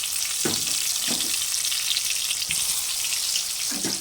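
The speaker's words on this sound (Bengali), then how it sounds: "একটু লাল করে আলুগুলো ভেজে নেব।" Spice-coated potatoes fry in hot oil in a pan for an egg biryani, giving a loud, close, constant sizzle with a few soft stirring knocks.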